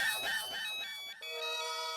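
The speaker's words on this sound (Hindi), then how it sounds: "किसका फोन बज रहा है?" A mobile phone ringtone plays close by, a quick run of pulsing electronic notes that ends in a held tone.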